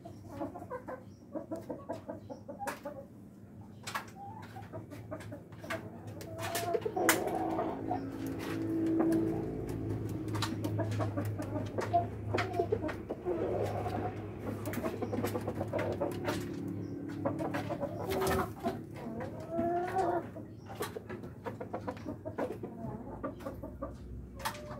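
Rhode Island Red roosters and chickens on a farm cluck and crow in a busy, continuous barnyard chorus, with several crows rising above the steady clucking and other birds calling around them.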